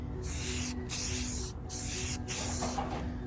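Aerosol spray paint hissing in steady bursts as furniture is spray painted, broken by three short pauses, loud and close with no voices.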